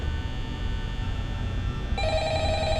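A telephone rings in the Five Nights at Freddy's horror game, a steady electronic ring that begins partway through and carries over a constant low background hum, with no voices.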